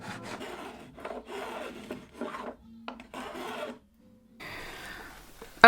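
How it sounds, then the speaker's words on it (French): Hand saw cutting through a wooden box in repeated rasping strokes, close and fairly loud, in several bursts with short pauses, ending with a brief sharper clatter. "Je finis le tout à la scie."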